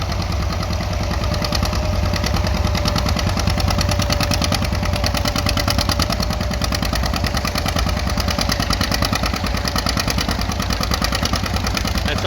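A small John Deere B tractor engine labors steadily under load while pulling a plow at an antique tractor show, its loud, continuous rhythmic putter close by and alone.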